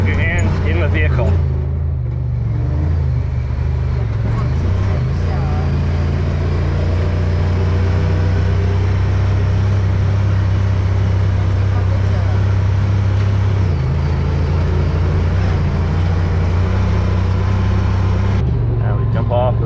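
A UTV side-by-side engine drones steadily and loudly while driving along a trail near an abandoned castle in Nova Scotia, with a continuous low rumble throughout and people talking over the noise.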